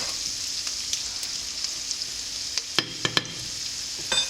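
Flour is stirred into sausage grease in a pan to make a roux, with a soft continuous sizzle. Several distinct scrapes and knocks of a utensil against the pan come near the end, with no talking.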